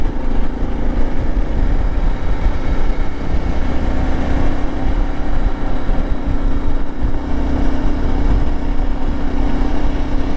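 A 2025 Yamaha Tenere 700 motorcycle riding on a mountain road, its engine a steady, loud drone with wind rush throughout, no voices.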